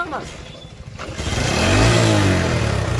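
A motorcycle engine starts up and revs, swelling from a low rumble to a loud, rising roar close by, over background outdoor noise with people talking.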